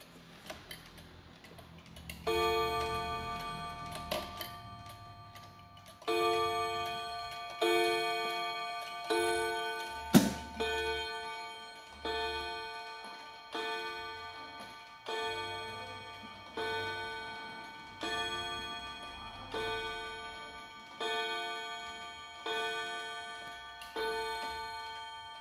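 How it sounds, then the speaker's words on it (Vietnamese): An antique Japanese Aichi wall clock with a wooden case sounds a long run of evenly spaced, resonant ringing strikes over a faint ticking mechanism, close and clear, with no talking. "Và cuối cùng trong cái sản phẩm ngày hôm nay là một chiếc đồng hồ Aichi nhé"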